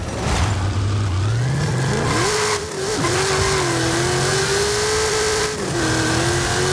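A heavily modified 1968 Pontiac Firebird revs hard in a quarter-mile drag race in Forza Horizon 5. The loud, close engine climbs steadily, with brief dips at each gear change and a continuous roar throughout.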